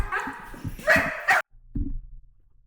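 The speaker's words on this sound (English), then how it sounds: "This is a video of a dog being scent trained." A dog barks and whimpers in short excited yips during scent training, loud and close, with a sudden cut followed by a low thump.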